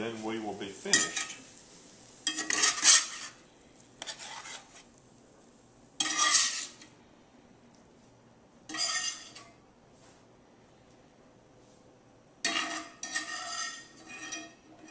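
A fried egg scraped from the pan of an induction cooktop and slid onto a plate: five or six short, bright metallic scraping bursts with quiet pauses between, close by and without talk.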